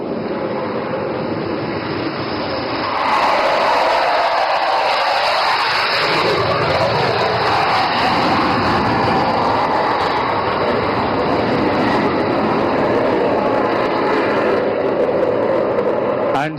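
A fighter jet flying an overshoot at an Indian Air Force air show, a loud roaring jet rush that swells after a few seconds and stays strong and continuous, with a public-address voice faintly beneath.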